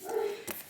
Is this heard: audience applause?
no